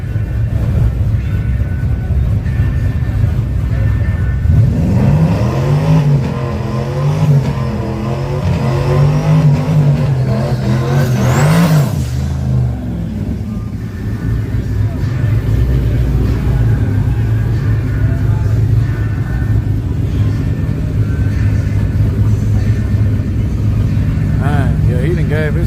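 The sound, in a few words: drag racing cars accelerating, including a turbo Mustang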